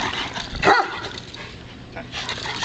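Two dogs growl and bark at each other in rough play during a socialization session, with close, loud barks and yips over continuous growling, while someone talks in the background.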